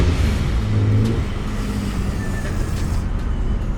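The supercharged Nissan 350Z engine in a Death Kart idles loudly with a deep, steady rumble and a slight rise in revs, heard close by with no talking.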